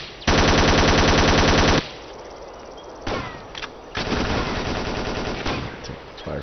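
Automatic gunfire in the tactical shooter Ghost Recon Island Thunder, a loud sustained burst laying down suppressive fire, then scattered shots and shorter bursts that sound farther off against quieter background.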